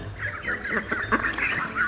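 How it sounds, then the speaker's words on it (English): Ducklings cheep in a dense, continuous chorus of high, rapid peeping calls, close and busy, with a noisy background. "Cheep, cheep, the ducklings called to their mother."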